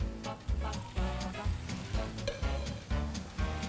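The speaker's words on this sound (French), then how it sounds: "Tout simplement, on va poêler ça." Pork fillet sizzling in a hot pan with melted margarine, a steady dense frying crackle with soft rhythmic thumps of the pan or utensil recurring about every half second.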